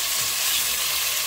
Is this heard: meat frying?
yes